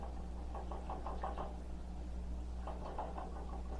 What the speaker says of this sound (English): we're going to whisk these eggs together